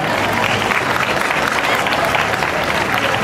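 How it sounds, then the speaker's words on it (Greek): Hearty crowd applause for the children of the orchestra at an outdoor summer dance event of a cultural association in Stavroupoli, loud continuous clapping with crowd murmur underneath. "θα ήθελα ένα γερό χειροκρότημα για τα παιδιά"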